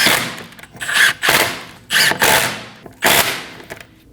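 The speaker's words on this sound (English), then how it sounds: "install the rest of the lug studs, snug them down with a gun." An impact gun snugs the lug studs on a Volkswagen Passat wheel in three loud, close bursts of rapid hammering rattle, each about half a second, separated by brief pauses, with no talking.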